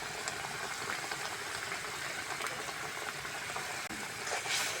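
Spices, turmeric, chilli powder and a handful of peas for potato curry sizzle in a pan, a steady close hiss and bubbling crackle with no talking.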